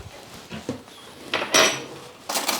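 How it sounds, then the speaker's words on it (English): Spoon stirring béchamel sauce in a metal pan, giving a few close, bright scraping clinks and knocks in quick irregular bursts separated by short pauses. "And give it a good stir,"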